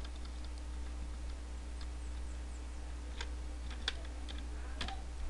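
Typing on a computer keyboard while writing Pascal code, with a few faint, sparse key clicks over a steady low electrical hum.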